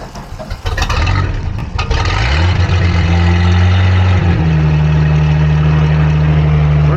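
A boat engine sputters, catches and settles into a loud, steady running rumble close by, with no talking.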